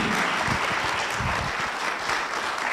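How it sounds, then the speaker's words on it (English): Steady, dense applause from a large crowd, loud and sustained throughout with no pauses. "Let's give them all a round of applause"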